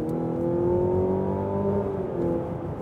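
A Mazda CX-80 plug-in hybrid seven-seater's engine revs and pulls hard in sport mode with a steady rising drone, heard from inside the cabin for a few seconds with no talking.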